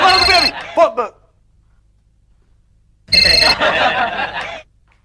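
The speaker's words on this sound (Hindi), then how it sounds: "यार, मेरा फोन बज रहा है" A mobile phone rings in two loud bursts separated by a few seconds of near silence, each a busy chirping electronic tone close by.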